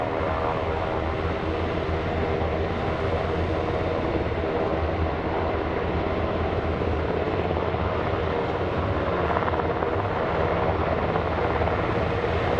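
UH-60 Black Hawk helicopters lift off at a military base airshow open house, their rotors and turbines producing a loud, continuous, steady roar that fills the whole stretch without letup.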